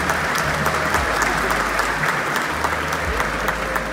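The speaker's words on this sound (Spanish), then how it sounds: "Un fuerte aplauso" A graduation audience at a 2019 media-program ceremony applauds steadily, dense continuous clapping filling the room for several seconds without pause.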